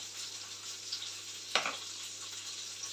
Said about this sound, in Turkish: Salçasını kavuruyorum.